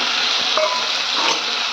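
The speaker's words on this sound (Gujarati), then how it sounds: "હવે જે આપણી ડુંગળી પડી છે એ ડુંગળીને વઘાર કરી દઈશું" Chopped onions sizzle in hot oil for a tempering with fenugreek seeds, a steady loud frying hiss filling the whole stretch with faint stirring scrapes and no talk.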